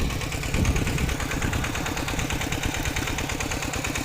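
A walking tractor's small engine idles steadily with a rapid, even chugging throb, loud and close, with no voices.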